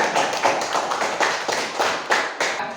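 A classroom of students claps hands together in a quick rhythmic pattern, about nine close, sharp claps in under three seconds, with no talking.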